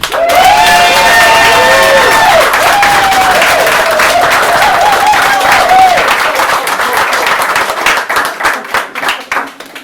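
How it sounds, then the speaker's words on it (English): An open-mic poetry audience claps and cheers for a guest poet, loud, dense applause with whoops and shouting at the start that thins into scattered, separate claps near the end. "please give the biggest, wildest loud of applause to our very special guest poet"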